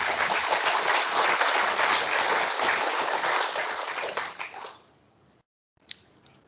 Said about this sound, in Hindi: और इसके लिए तालियां तो बनती हैं भाई